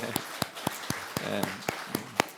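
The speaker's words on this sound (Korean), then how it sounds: "권사님은 함께 하시는데 박수로 환영합니다" A church congregation claps to welcome a deaconess, with short sharp claps arriving in a fairly even rhythm that sounds like a small group.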